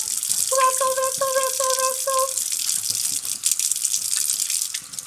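Tap water runs steadily into a sink while hands are washed, with a short string of about five bright electronic beeps near the start, then just the continuous splashing flow.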